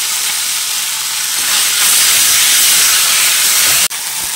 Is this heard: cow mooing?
no